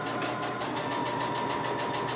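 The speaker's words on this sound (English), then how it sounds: "Now I'm going to keep sewing." A sewing machine runs a straight stitch through fabric, a steady continuous whir with a fast, even needle rhythm, close and moderately loud, with no talking.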